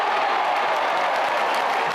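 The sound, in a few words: crowd cheering at ACC basketball tournament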